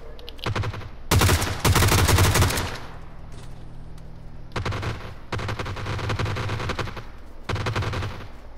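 Gunfire in the battle-royale game PUBG crackles in several loud, rapid bursts separated by short lulls, with sustained automatic fire through the middle and no talking.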